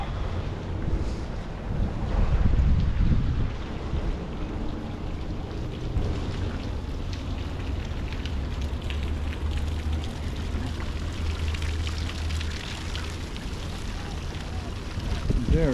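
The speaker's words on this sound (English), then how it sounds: "There is the waterfall." Rushing water from a waterfall beside the Ala Wai Canal in Waikiki, Oahu, heard as a steady, dense roar that fills the clip, with wind buffeting the microphone throughout.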